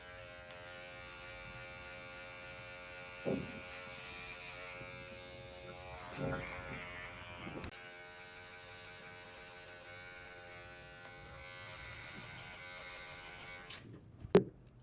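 An electric hair clipper cuts a schoolboy's hair, giving a steady, close buzzing hum with a few brief knocks and bumps along the way, and a voice talks quietly at times.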